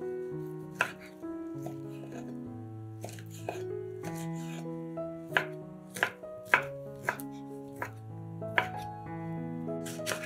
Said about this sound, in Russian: берем 150 грамм ветчины и нарезаем ее небольшими кубиками